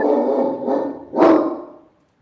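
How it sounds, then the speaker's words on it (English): A dog gives a few close, loud barks in quick succession, the last one sharpest, then falls silent. "it's your dog"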